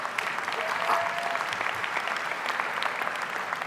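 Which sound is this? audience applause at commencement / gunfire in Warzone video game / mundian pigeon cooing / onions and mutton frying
audience applause at commencement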